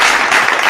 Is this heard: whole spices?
no